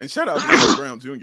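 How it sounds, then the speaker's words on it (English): A sneeze bursts out mid-clip amid excited chatter while watching a Timberwolves vs Bulls basketball game, with talk continuing on both sides of it. "That was the most I've sneezed in consecutive order in like years."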